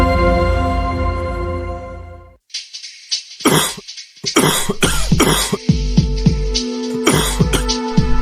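A man coughs several times in a row, harsh and close, while a tonal beeping or music tone sounds in the background.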